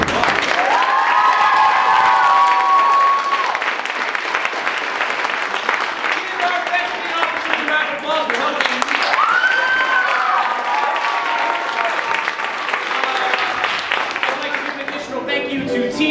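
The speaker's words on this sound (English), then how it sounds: "Another round of applause." An audience applauds and cheers theatre performers at a high school winter cabaret. The clapping is loud and sustained, shrill whoops and shouts rise above it, and voices carry on underneath.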